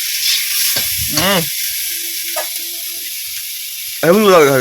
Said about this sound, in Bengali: মাছগুলো ভাজা হয়ে গেছে এখন তুলে রাখবো